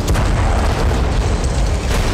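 A heavy bombing explosion rumbles in a sustained, loud low-frequency roar, dense and continuous without clear separate blasts, with no voices heard.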